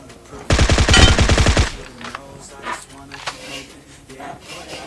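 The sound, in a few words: gunfire in the video game Battlegrounds Mobile India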